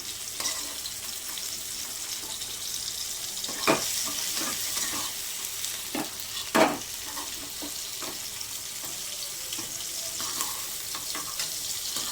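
Vegetables frying in hot oil in a home kitchen pan, a continuous soft sizzle with a few sharper spits and clinks of a utensil, heard up close with no talking.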